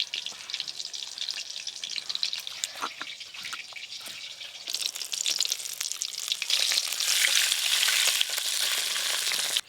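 Fish oil frying in a pan for a rural Bengali cauliflower dish, a continuous close sizzle with crackling spits that grows louder and denser in the second half.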